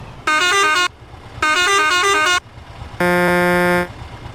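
A Scania truck's horn in a truck simulator game sounds two long, loud blasts of about a second each, then a third, steadier blast with a deeper, different tone, with no talking.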